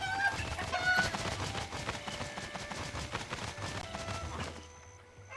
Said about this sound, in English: How dare you bring a chicken?